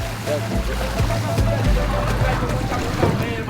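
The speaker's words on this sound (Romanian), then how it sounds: "Hai, uite că barca noastră a venit." Boat approaching on the water at a crowded island, with a low engine rumble under strong wind noise and voices talking nearby.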